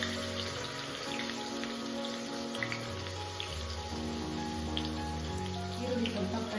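Chopped onions frying in hot oil and butter with ginger-garlic paste give a steady, dense sizzle that crackles and pops continuously throughout.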